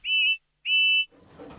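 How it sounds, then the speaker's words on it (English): A toy steamroller's whistle, from a Hornby/Bachmann model railway scene, blows two loud, shrill, steady blasts of about a third of a second each, followed by faint rustling. "Then he heard a loud whistle. It was George the steamroller."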